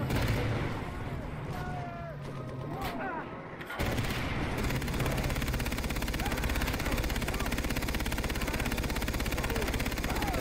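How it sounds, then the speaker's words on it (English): Rapid, continuous gunfire from a mounted heavy machine gun in the video game Far Cry 3 roars nonstop at close range, dense and loud, with game-like effects underneath. "it's the mounted machine gun"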